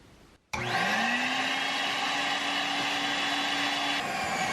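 A workshop dust collector switches on after a short quiet moment, its motor spinning up with a rising whine and settling into a loud, steady roaring hum close by before dipping slightly near the end, with no talk.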